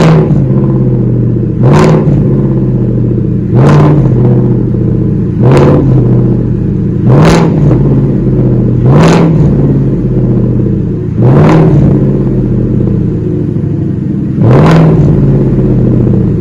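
A 2019 Ford F150 with no mufflers idling loud and deep on a cold start, the steady rumble broken by about eight sharp revs spaced roughly two seconds apart, each one swelling briefly and then falling back to idle.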